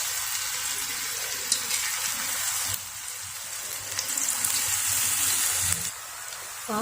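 Bitter gourd pieces fry in hot oil, giving a faint, steady sizzle with soft crackles and small bursts as pieces drop in one by one, heard alone without talk.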